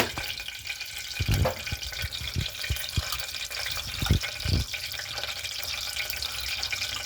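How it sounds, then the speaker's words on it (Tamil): Fennel seeds crackle and sizzle in hot oil while a curry is being cooked, giving a continuous frying hiss broken by scattered sharp pops, fairly close. "ಚಟಪಟ ಶಬ್ದ ವರ್ದು ಅದಾನೆ"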